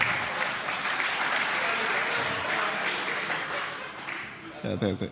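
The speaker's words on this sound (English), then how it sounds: "I will just request that you loan me a round of applause" A room of people at an infrastructure opening ceremony applauds steadily for several seconds, a dense wash of clapping that fades out before a brief sound at the end.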